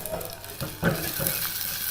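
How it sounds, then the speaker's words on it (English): Quiet, steady sizzling of onions frying in olive oil, with a few soft scraping stirs, close by and no talking. "get those onions kind of frying up"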